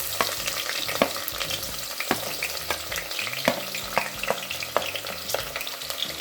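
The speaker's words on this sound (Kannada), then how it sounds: "ಸೊ ಇದನ್ನು ನಾವು ಇವಾಗ ಕುಕ್ಕರಲ್ಲಿ ಹಾಕಿ ಫ್ರೈ ಮಾಡೋಣ" Chopped onions and small tomatoes frying in oil in a pressure cooker, a loud, steady sizzle close by with repeated stirring scrapes and knocks of the spoon against the metal pot.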